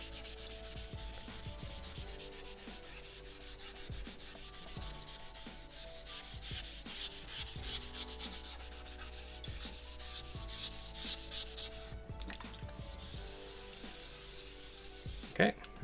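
A coarse stone is rubbed back and forth across a whetstone, making a gritty, rhythmic scraping with short repeated strokes, fairly close and quiet.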